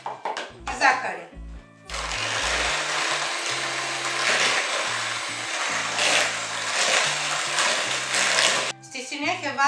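Electric hand mixer whirring steadily in a bowl as three eggs and one and a half cups of sugar are beaten for a tiramisu sponge, a loud continuous drone lasting most of the clip between short clattering handling noises.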